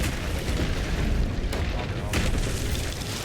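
Cannon fire in the naval pirate game Sea of Thieves, heavy low booms rolling over one another in a dense barrage, with a couple of sharper blasts near the middle and voices talking faintly underneath.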